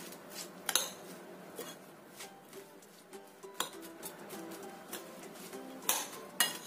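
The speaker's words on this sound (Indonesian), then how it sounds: "Ini kita aduk sebentar ya, biar jagungnya ini yang gembel-gembel bisa agak sedikit terbuka kayak gitu." A spoon scrapes and clinks against a pan while stirring a corn mixture with garlic and shallots, giving soft irregular metallic taps and scraping over a quiet kitchen background.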